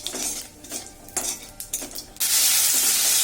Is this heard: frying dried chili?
yes